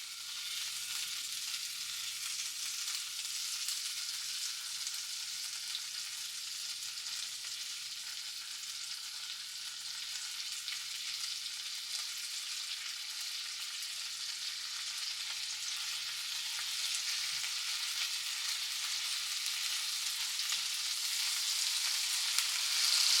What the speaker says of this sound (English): we're gonna simmer or sear these just kind of like on a medium heat. Sitting in just a little olive oil.